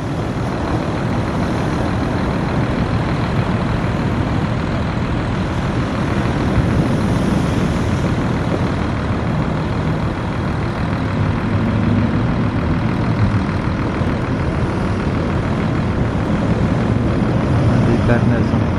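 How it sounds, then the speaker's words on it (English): Powerboat with 500 horsepower engines roars steadily at speed, a loud continuous engine drone with water rush holding constant throughout. "That boat flies with those 500 horsepower, 500 horses kicking."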